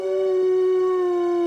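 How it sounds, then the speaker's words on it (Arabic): A cartoon wolf gives one long, loud, sustained howl, a single steady tone held for about a second and a half, alone with no talking. "هل سمعت صوت الذئب؟"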